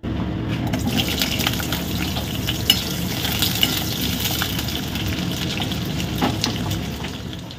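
Diced new potatoes, sweet pumpkin, tomato and green chillies fry and sizzle in a pan while being stirred, giving a steady close crackle with a few clinks of the utensil.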